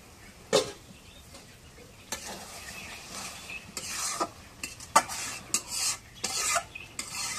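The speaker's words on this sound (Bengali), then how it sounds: "এখন বাজিয়ে একটু নাড়া দিয়ে দিই" Goat tripe bhuna is stirred in a frying pan in a rural village kitchen, with a soft sizzle beneath intermittent scraping and clinking strokes of a spoon against the pan that come louder and closer together toward the end.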